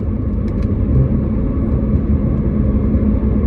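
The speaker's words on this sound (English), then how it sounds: "that downshift, that little rev in sports mode" A race car engine, driven in sports mode, holds a loud, steady low drone close by and gives a short rev during a downshift, with wind noise mixed in.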